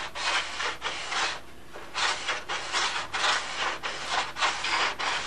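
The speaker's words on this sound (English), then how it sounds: "This is just a rough sanding now. This is with 220." Rhythmic scratchy rasping of 220-grit sandpaper rubbed back and forth on thin 3/32 wood of a model Spitfire, close up, strokes repeating steadily with a brief pause early on.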